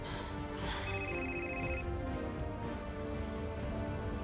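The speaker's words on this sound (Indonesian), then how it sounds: "Jakir telepon Mama" A telephone rings steadily in an indoor drama scene, a continuous electronic ring lasting the whole stretch with no voices over it.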